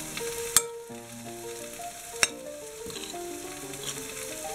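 Chili powder stirred into a sofrito in a pan: a soft continuous sizzle with two sharp utensil knocks against the pan and light scraping, close and without speech.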